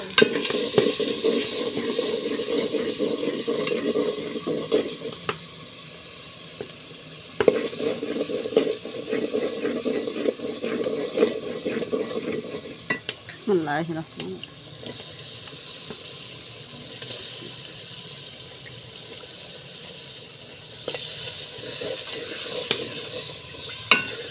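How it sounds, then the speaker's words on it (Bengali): Fresh duck meat stirred and fried in a pot for a rainy-evening home curry, a steady sizzle with scraping spoon strokes and occasional clatter running throughout, no talking. "এখন মাংসটা দিয়ে দিতে ভালোভাবে নাড়াচাড়া দিয়ে একটু কিছুক্ষণ কষিয়ে নিবে।"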